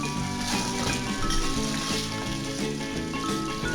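Peas are added to a pan of vegetable pulao, which keeps up a continuous close sizzle, with a steady tonal background underneath.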